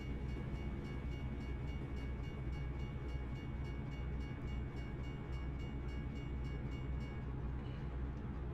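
An Amtrak passenger train rolls past with a steady, continuous rumble and rail noise that holds the whole time, fading slightly near the end, heard from inside a truck on the road.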